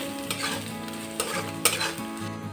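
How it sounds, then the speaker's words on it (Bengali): Spice masala for soybean kofta curry fries in a pan with a constant crackling sizzle, and a spatula stirs and scrapes through it in several distinct strokes, close and fairly loud, with no voices. "এখন মশলাটা খুব ভালোভাবে কষিয়ে নেব।"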